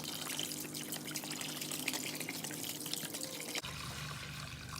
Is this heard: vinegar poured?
yes